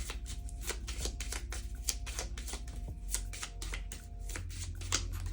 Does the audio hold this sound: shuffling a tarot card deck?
yes